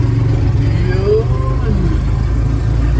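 A tricycle engine revs close by, a steady low rumble with a rising, straining tone over a couple of seconds as the ride gets underway, with voices talking over it.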